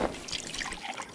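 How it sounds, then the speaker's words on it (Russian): Water trickling and dripping briefly as supplies are refilled in the video game Wasteland 2: Director's Cut, a faint, short liquid splash. "Пополнить запасы водой."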